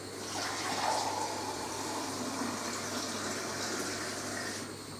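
Tap water running steadily into a large saucepan on a home-brew beer day in a UK kitchen, a continuous close splashing fill with no talk.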